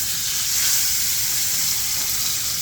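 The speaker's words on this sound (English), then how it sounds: "Listen to that sizzle." Pork sizzles loudly in a preheated cast iron pan with olive oil, a steady, close, dense frying hiss with no talking.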